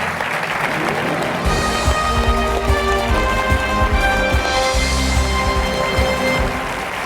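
Studio audience on the French game show Qui Veut Gagner des Millions? applauds a winning contestant, sustained dense clapping filling the room with a few murmurs underneath.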